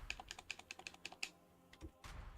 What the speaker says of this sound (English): Look at me typing